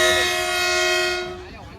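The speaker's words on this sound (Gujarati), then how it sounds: "જો આ ટ્રેન આવી ને" A passing train near Patdi in Gujarat sounds a long, loud horn that holds steady for over a second and then fades as the train moves on, heard close by.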